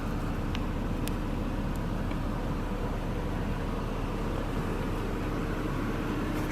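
A 2011 Mercedes E350 convertible idles while warming up, a smooth steady low engine hum with a faint hiss, unchanging for the whole stretch with a few small clicks and no talking.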